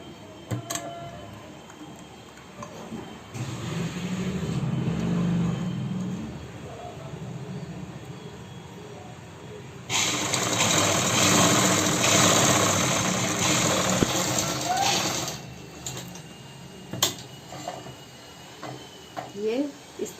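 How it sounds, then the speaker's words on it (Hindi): A sewing machine stitches salwar fabric in two bursts, first a lower motor whir and then a brighter, louder run of rapid stitching, with quieter gaps and faint handling noises between. "अब हम इसमें इस तरह से करके इसमें सिलाई लगाएंगे।"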